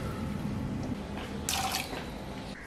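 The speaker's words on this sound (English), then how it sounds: "Add 1 1/2 cups of water" Water pours into a pressure cooker holding soaked chickpeas, a soft running splash that swells briefly into a brighter gush before settling, close and fairly quiet, with no talking.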